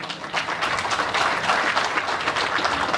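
An audience at a Kajri folk festival in Uttar Pradesh claps continuously with dense, moderately loud applause and no break.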